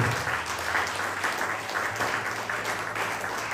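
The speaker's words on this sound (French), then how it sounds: "Tu peux acclamer pour les rois des rois." A church congregation applauds during a prophetic sermon, a steady dense wash of clapping that holds loud and continuous throughout with no voices standing out.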